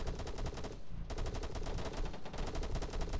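Enemy machine gun fire in Arma 3 rattles in a fast, continuous stream of evenly spaced shots, briefly pausing once before resuming, loud and sustained with no talking.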